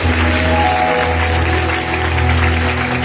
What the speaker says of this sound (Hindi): तालियां बजाते हुए